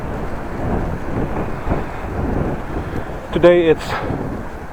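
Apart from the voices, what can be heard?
wind blowing outdoors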